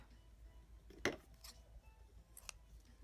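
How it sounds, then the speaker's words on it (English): Scissors snip sewing thread during hand sewing, one quiet sharp cut near the middle followed by a couple of faint clicks in a hushed room. "I'm gonna trim it off right there"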